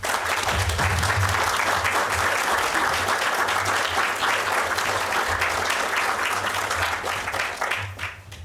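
Lecture audience gives a warm, sustained round of applause welcoming a speaker to a talk on witches and witch hunts, dense and even throughout before tapering off at the end.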